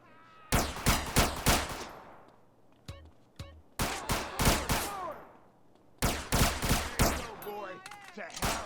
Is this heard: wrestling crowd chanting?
no